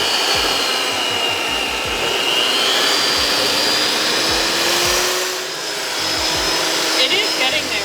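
Electric hand mixer beating a keto protein bar mixture, a loud steady motor whir held throughout with faint knocking underneath.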